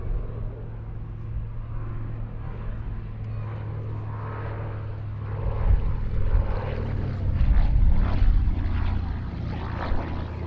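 A Douglas C-41A, a military DC-3 propeller aircraft, flies at the Duxford Summer airshow. Its piston engines give a steady droning hum that swells louder midway as it passes closer, with no talk.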